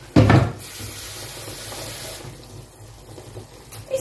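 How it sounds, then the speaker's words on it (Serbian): Water is poured into a cooking pot holding two goulash stock cubes, starting with a loud splashing burst, then thinning to a softer trickle before fading into quiet. "Nalijte u ovo malo vode."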